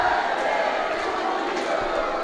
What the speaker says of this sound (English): You can hear the spectators singing and cheering.